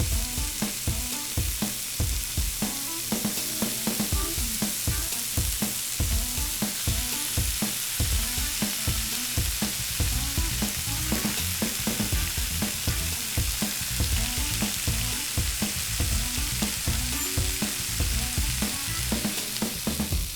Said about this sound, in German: Die sollte ich vielleicht auch noch frittieren.